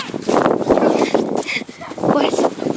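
A dog whimpers and yips in short bursts close by, mixed with people talking over it throughout.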